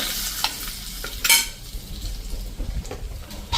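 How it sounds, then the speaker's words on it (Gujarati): Spiced tempering with red chilli for dal dhokli stirred and poured into a pressure cooker, a soft steady sizzle broken by sharp clinks of a metal spoon against the pot, no talking. "અને એને હવે આપણે આ દાળ ઢોકળીના કુકરમાં જ આ રીતે મિક્સ કરી અને નાખી દેશું મિત્રો"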